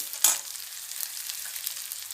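Steady crackling sizzle of onions frying in a pan, with a brief scrape of stirring near the start; no voices.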